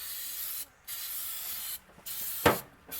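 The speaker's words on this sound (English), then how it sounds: "Oh, this stupid can is spraying everywhere." Aerosol spray can applying coating to the floor pan of a Datsun 280ZX, with three loud steady hissing bursts separated by brief pauses and a sharp knock near the end, heard up close.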